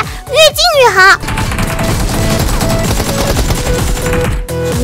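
Rapid bursts of automatic gunfire from the Peacekeeper Elite battle-royale mobile game ring out in a dense, continuous volley after a short burst of tonal game sound, loud and up close.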